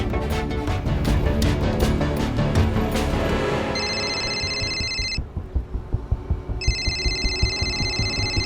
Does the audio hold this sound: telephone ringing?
yes